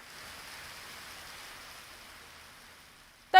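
Heavy monsoon rain pours down on the Mumbai suburb of Nalasopara as a steady, soft broadband hiss with no voices, ending in a sudden brief louder burst.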